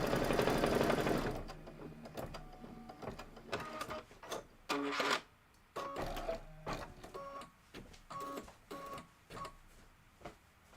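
A sewing machine stitches a quilt block for a Kimberbell Sweet as Pie sew-along using 60 weight thread, the motor whirring in a steady run at first, then in a series of short bursts with pauses between them.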